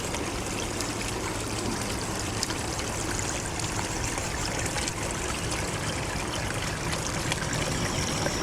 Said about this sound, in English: This chatty brook, for example, actually caught my ear before it caught my eye.